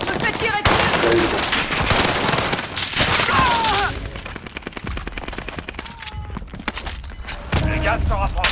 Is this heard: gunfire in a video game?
yes